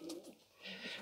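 Pigeons cooing in a racing pigeon loft holding young cocks and hens, soft close coos with a faint rustle, quiet and brief.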